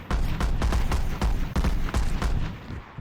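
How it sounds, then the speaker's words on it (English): Gunshots and bullet impacts striking the ground in a role-play combat game, a rapid series of sharp cracks in irregular bursts, loud and close, with ricochet-like tails and brief gaps between volleys. "if I shoot the ground near you,"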